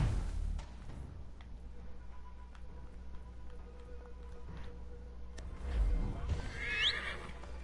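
A horse in Assassin's Creed III whinnies near the end with a rising, bright neigh, after a stretch of quiet ambient game sound with soft clops and low rumble.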